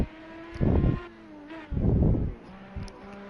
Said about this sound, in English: oh, a little bit of wheel spin on the exit there